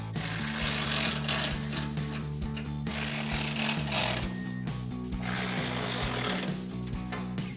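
Skid plate bolts on a 2009-2014 F-150 front bumper are tightened with a 17mm socket and wrench, a rapid run of ratcheting clicks close up, repeating in short bursts with no talk.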